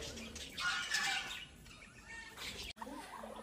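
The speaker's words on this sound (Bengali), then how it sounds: "বদ্রি পাখি রয়েছে।" Budgerigars in a bird park aviary, chirping faintly at a distance in a soft, busy twitter, with a brief louder swell and some wing flutter, over open-air background noise.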